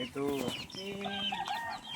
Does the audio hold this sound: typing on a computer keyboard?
no